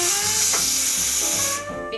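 An espresso machine steam wand being purged after wiping, giving a loud continuous hiss with tonal whine that cuts off near the end.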